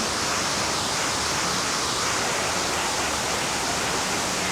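Waterfalls in Hemisfair Park in downtown San Antonio, a steady, loud, close rush of falling water, an unbroken roar with no voices.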